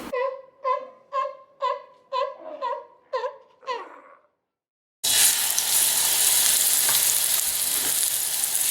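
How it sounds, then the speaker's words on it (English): Pork searing in salad oil in a hot frying pan: a run of short, bright tonal chirps, a moment of silence, then a loud, continuous crackling sizzle that fills the rest. "now we're ready to sear this"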